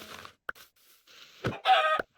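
A chicken in the Minecraft video game gives a few short clucks and squawks, close and clear, separated by brief silences.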